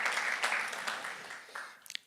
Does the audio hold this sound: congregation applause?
yes